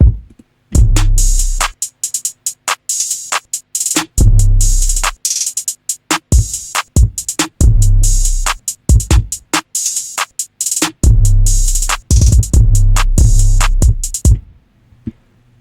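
Programmed drums for a 140 BPM beat play alone, punchy booming kicks and sharp crisp snares and hats in a tight repeating pattern, loud and dense with brief gaps between bars.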